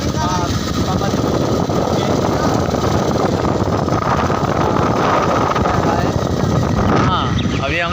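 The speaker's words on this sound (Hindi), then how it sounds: "अभी हम लोग बाइक में, ये देखो पल्सर में है" A Pulsar 220 motorcycle being ridden on the road, its engine a steady broadband roar heavily mixed with wind buffeting, loud and continuous throughout.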